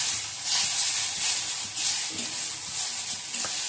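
Maggi chowmein reheating in a pan, giving a steady close sizzle and frying hiss with soft stirring scrapes throughout and no talk.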